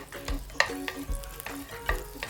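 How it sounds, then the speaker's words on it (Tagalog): Butter melting in a cooking pan gives a soft, steady sizzle with a few light stirring scrapes and taps, quiet and close, with no voices. "We will melt the butter."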